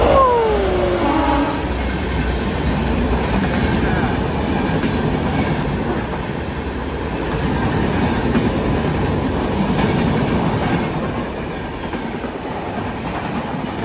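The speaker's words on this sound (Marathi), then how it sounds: "मित्रांनो लोकल आलेले आहे." A crowded Pune–Lonavala suburban local train pulls into a station platform, sounding a short horn before its wheels rumble and clack steadily as the carriages roll in.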